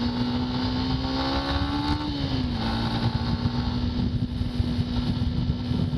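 Manual-clutch motorcycle overtaking another vehicle on the road, a steady loud engine drone whose pitch rises slightly then dips, with strong wind and road noise throughout and no speech.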